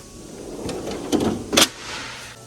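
A large drawer of a Snap-on Epiq 68-inch tool box slides open or shut with a smooth rolling rumble, ending in a short sharp thud, close by and alone.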